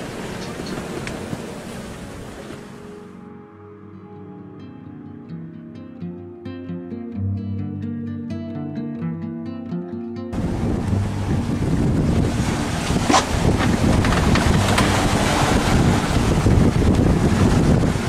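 A sailboat heeling through sustained winds over 20 knots on the open ocean, with loud wind buffeting and rushing water filling the scene, a quieter stretch in the middle and a heavy roar of wind and waves returning.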